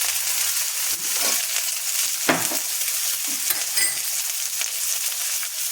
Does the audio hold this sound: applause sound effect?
no